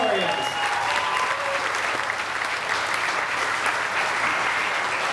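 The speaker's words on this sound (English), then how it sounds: "let's hear another big round of applause for these 2 warriors" A crowd applauds loudly and steadily for several seconds at a Muay Thai fight show in Perth, dense clapping filling the space with a faint voice early on.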